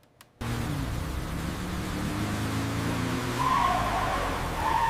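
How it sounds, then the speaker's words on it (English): A car on a slippery road brakes suddenly, a loud sustained rush of tire and road noise that begins abruptly after a short near-silence and holds steady, with a higher squeal rising toward the end. "A car stopped suddenly."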